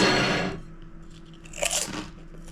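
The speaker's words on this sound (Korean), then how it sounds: "근데 씹으면은 바삭도 아니고 아그작 이런 느낌." Crunching bites into thick potato chips, loud and close, a dense crackle at the start and a second chewing crunch a moment later, with no talking.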